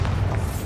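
The Bombarda explosion spell in Hogwarts Legacy lands as a short, loud, heavy boom with a deep rumbling body, filling under a second and heard alone.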